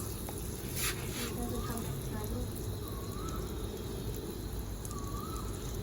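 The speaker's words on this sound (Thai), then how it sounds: "เขาก็บ่ใส่น้ำมันเนาะเขาก็สิใส่มาการีน แทนน้ำมัน ในการ ทอด" Roti dough fries in melted margarine in a pan, giving a soft, steady sizzling hiss beneath someone talking.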